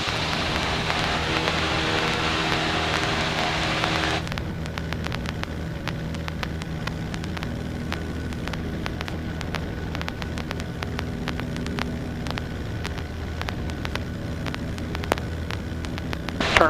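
Steady, loud drone of a Stinson light aircraft engine in flight, a broad roar filling the cabin throughout with a denser burst at the start, no talk over it.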